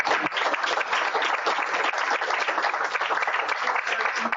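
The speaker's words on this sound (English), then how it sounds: "let's give a big round of applause to the speakers" An audience applauds the speakers at a research industry event, a dense, steady wash of clapping from many hands that stays loud and even throughout.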